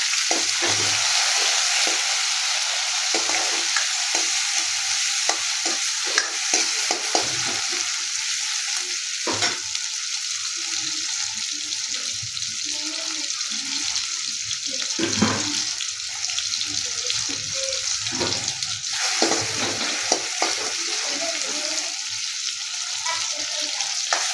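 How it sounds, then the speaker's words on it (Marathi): Onions fry in a pan with a continuous loud sizzle and intermittent stirring scrapes, and a brief voice is heard here and there over the steady hiss. "कांदा पण छान फ्राय झाला"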